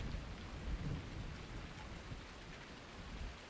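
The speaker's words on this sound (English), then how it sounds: "There's like thunder." Rain and thunder in the Farming Simulator 19 game, a steady hiss of rainfall with low rumbling thunder swelling underneath, continuous and fairly quiet, no talking.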